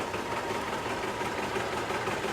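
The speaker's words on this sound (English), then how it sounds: "piece of green is a wonderful 1953 John Deere R, driven by Alan Black, a diesel" A 1953 John Deere R diesel tractor running at a steady idle at a summer picnic show, a continuous broad engine rumble with faint knocking texture, fairly loud and unbroken, with no talk.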